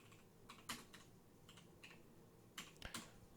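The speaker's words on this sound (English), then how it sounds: "Let me type these in real quick." Typing on a computer keyboard, scattered key clicks in small clusters, close and quiet, with brief pauses between strokes.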